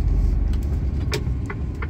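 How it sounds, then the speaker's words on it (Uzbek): On a German road, a car coming from the opposite direction brings a low, steady engine and tyre rumble, close and continuous, with a few faint clicks and rattles mixed in. "Bu yerdan qarshidan mashina kelmoqda."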